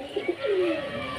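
A Giribaz pigeon coos close up: two short soft notes, then a longer rolling coo that fades over about a second.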